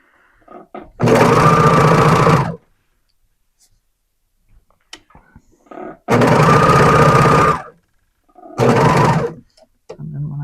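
Sewing machine stitching stretch fabric for leggings, running loud and close in three bursts of steady whirring, each one to two seconds long, with quiet pauses and soft handling clicks between them.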